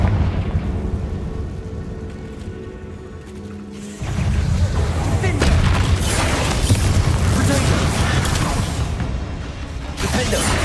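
Blasting-spell explosions in the Hogwarts Legacy video game: deep, rumbling booms that swell sharply at about four seconds and roll on heavily, with a brief lull near the end before another blast.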